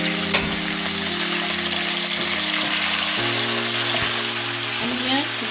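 Chicken pieces frying in a pan, a steady close sizzle with a few stirring clatters and a low background hum running throughout.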